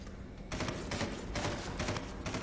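A heavy gun fires in Solstice Chronicles: MIA, a few loud booming shots in quick succession that run together into a continuous roar of battle noise.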